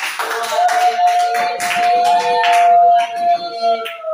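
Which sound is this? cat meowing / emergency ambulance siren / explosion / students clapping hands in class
students clapping hands in class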